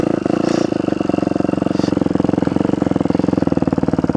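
A motorcycle engine rides through a neighborhood with a loud, close, rapid, even pulsing drone held at a steady pace throughout.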